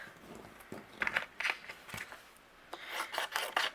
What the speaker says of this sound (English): Now I'm going to go ahead and fussy cut each one of my images out.